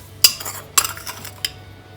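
A spoon scraping and clinking against a metal pot while a shami kabab spice mixture is stirred, three sharp clinks with softer scraping between, close and alone.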